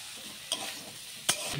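Small pieces of potato and cauliflower fry in a pan for a vegetable sabji, with a low continuous sizzle broken by two sharp scrapes of a spoon, close and without speech.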